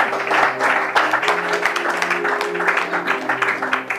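A church congregation applauds in praise, a crowd of hands clapping steadily and loudly over a sustained organ or keyboard chord, with a faint voice mixed in.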